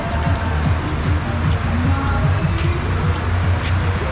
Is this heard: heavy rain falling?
yes